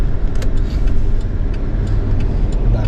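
A decorated wedding car drives along a road through a Shia village in Saudi Arabia, its engine and tyre noise holding steady and fairly loud for the whole stretch, with no voices over it.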